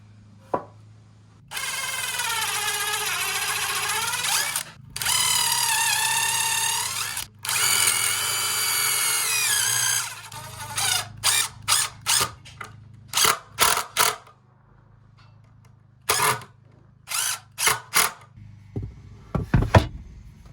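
A power drill drives long screws into a wooden desk being built inside a van, with several long whining runs followed by many short, sharp bursts and pauses, close and loud.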